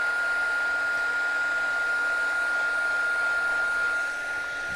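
A heat gun blows steadily to melt black embossing powder on a handmade card, a continuous close airy whoosh with a thin whine running throughout, dropping slightly at the end.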